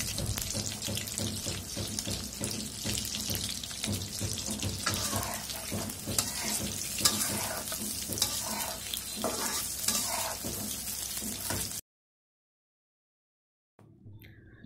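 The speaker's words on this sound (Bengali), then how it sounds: "চুলোর আঁচটা বাড়িয়ে আমি মাংসগুলোকে ঠিক 3 থেকে 4 মিনিট ধরে ভেজে নিলাম" Marinated chicken fries in hot oil in a kadai for restaurant-style chilli chicken, giving a loud, continuous sizzle with scraping stir strokes. It cuts abruptly to near silence toward the end.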